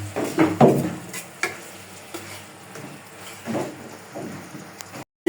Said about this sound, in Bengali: বুট দিয়ে কষাইব ভালো করে তারপর লাড়াছাড়া দিব